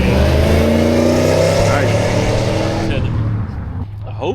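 A Ford Mustang engine revs loudly and close by, a sustained throaty roar that fades near the end, with people talking over it.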